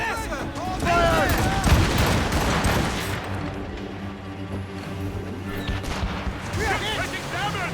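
Ship cannon fire in a naval battle in Assassin's Creed Rogue, booming volleys mixed with crackling blasts and a low rumble, sustained and loud, with shouted voices at the start and end.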